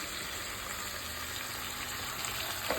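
Vegetable pieces coated in chili powder and salt fry for a Chennai-style sambar, giving a steady, even sizzle that runs unbroken throughout with no talking.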